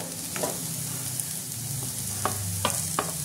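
Onions frying in hot oil for a Bengali-style begun bharta, with garlic added: a steady sizzle runs throughout, broken by a few sharp scraping stirs near the end.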